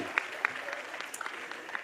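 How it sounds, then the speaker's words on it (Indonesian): Applause from an audience at a Turun Tangan gathering in a glamorous venue, a sparse, fairly quiet patter of claps with a few sharper individual claps standing out. "Boleh kasih tepuk tangan sekali lagi buat."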